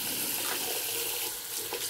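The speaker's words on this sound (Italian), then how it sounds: "Facciamo scorrere un po' l'acqua." Water runs from a bathroom tap in a steady, bright, close splashing rush, continuous and uninterrupted, with no voices over it.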